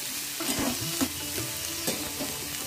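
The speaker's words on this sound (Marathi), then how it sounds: "तर हे परतून घ्यायचं तेलात।" Two finely chopped medium onions sauté in hot oil in a kadhai while a spoon stirs them, giving a close, steady sizzle broken by scraping stirring strokes, with no voices.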